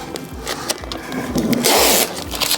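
Tyvek house wrap and flashing being cut off at a brick wall, short scraping and slicing strokes repeating, close and fairly quiet with a louder rasping cut near the end.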